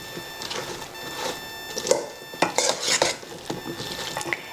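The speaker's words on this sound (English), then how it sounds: "Now I'm going to give it a good stir, because this is really important to get them nice and coated." Cauliflower is stirred in a bowl of buffalo sauce, with wet squelching, scraping and clinks of the utensil against the bowl, rising in bursts.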